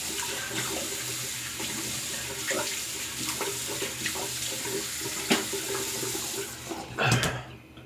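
Cold water runs steadily from a bathroom sink tap during a wet shave, a continuous close splashing stream with a few brief knocks and a louder splash near the end.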